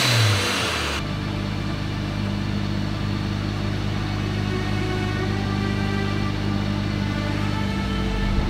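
A supercharged Jeep Gladiator engine cranks over and catches, then settles into a loud, steady idle with a sustained mechanical hum and light revving, close by and with no talking.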